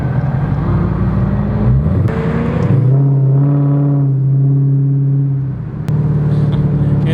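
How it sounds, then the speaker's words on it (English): A Dodge Hellcat rolls along gently on freshly fitted brake pads, its engine a steady low rumble throughout with a slight rise in pitch midway, no voices over it. "You can tell this car is a beast because she really wants to go."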